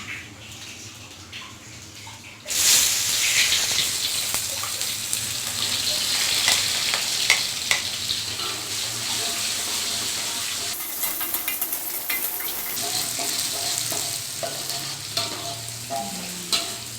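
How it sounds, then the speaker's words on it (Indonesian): Shallots and garlic hit hot oil with a sudden loud sizzle that settles into steady frying, with stirring scrapes throughout and no talking. "Kita goreng bawangnya sampai bawangnya menguning."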